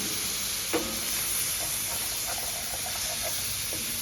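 Lamb with sautéed mushrooms and onions sizzles and hisses steadily in a pan after a splash of wine, with faint clinks of a stirring utensil over the constant frying noise.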